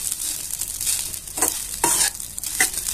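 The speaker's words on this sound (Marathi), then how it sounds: "छान असं आपण आता परत हलवून घ्यायची खिचडी." Sabudana khichdi being stirred in a pan over low gas, a close, steady sizzle with a few louder scraping strokes of the spoon against the pan.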